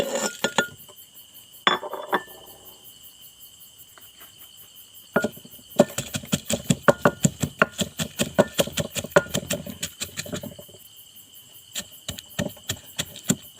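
Garlic, chili and shallot are pounded in a mortar, giving a quick run of sharp, close thuds and clinks. The pounding comes in bursts with short pauses, over a faint steady high hiss.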